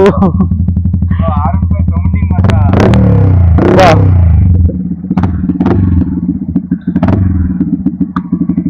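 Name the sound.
modified Yamaha R15 V3 motorcycle engine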